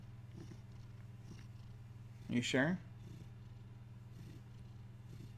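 A house cat purrs steadily and close throughout, with a brief louder vocal sound near the middle and someone speaking quietly over it.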